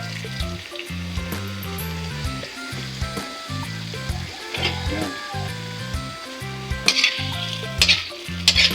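Shrimp sizzle and fry in a pan ahead of tomato sauce, a steady crackling hiss close up, with occasional stirring clinks and utensil scrapes breaking through, while music plays underneath.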